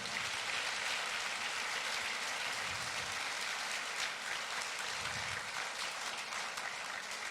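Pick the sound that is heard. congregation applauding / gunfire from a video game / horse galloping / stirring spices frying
congregation applauding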